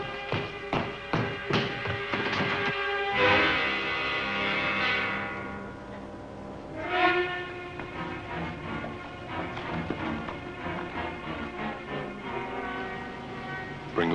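A train approaches along a frontier railway, a steady rumbling, clattering run with rhythmic knocks that swells in loudness and carries on without talk.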